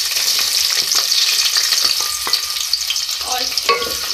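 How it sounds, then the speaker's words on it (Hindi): A medium onion sizzles in hot oil in a pan for chicken liver with potato and capsicum, a steady close hiss broken by scraping stirs and small clicks of a spatula, with no voices. "सबसे पहले हम ऑयल में इसमें एक मीडियम साइज़ की प्याज ऐड करेंगे"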